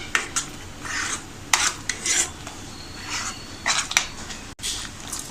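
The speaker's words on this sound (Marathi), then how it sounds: "5 मिनिटे तरी आपल्याला हे असं ढवळून घ्यायचं आहे व्यवस्थितपणे." A spoon scrapes and clinks against a pan while palak paneer gravy is stirred. The scraping strokes come in an uneven rhythm, close and clear, with no voices.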